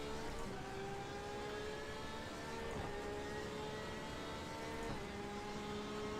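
A race car in the iRacing sim, driving an endurance GTE event at Sebring, gives off a faint, steady engine drone with layered harmonic tones, rising slightly in pitch, under a low background hum.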